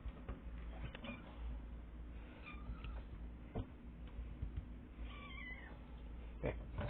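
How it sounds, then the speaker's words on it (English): A small cat or kitten meows softly several times, faint and scattered, against a quiet background of low hum and light ticking, with no speech. "Come here, kitty, up."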